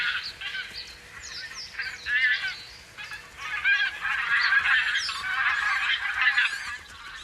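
A flock of wild geese on land near the water honks continuously, many overlapping calls rising and falling in a busy, fairly close chorus with no talking.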